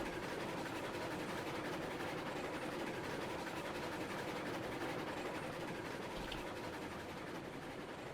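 A long freight train climbs a steep grade on a coal mine run in the Railroads Online video game, its steady rumbling rail noise and engine drone filling the whole stretch at an even level with no talk.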